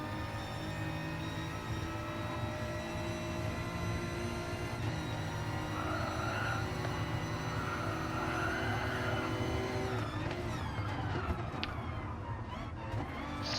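A BMW M4 race car in a sim racing league drones steadily from onboard, then its engine note shifts near the end, quiet and alone.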